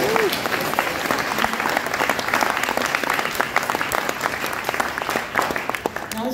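Lively applause fills a GP convocation ceremony hall, many hands clapping in a thick, sustained wash with sharp individual claps standing out, plus faint murmurs from the crowd beneath.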